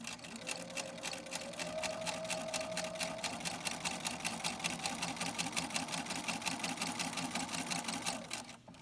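A sewing machine stitching a bean bag runs steadily at an even, rapid rhythm with a motor whine underneath. It is close and continuous, then stops near the end.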